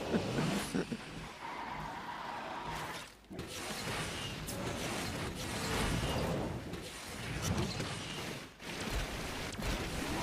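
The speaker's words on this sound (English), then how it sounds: "Oh, the drift." A Tushek supercar drifts with a long tire skid and squeal over a roaring engine during an Asphalt 9 multiplayer race. The skid is loud and sustained, with brief dips in intensity.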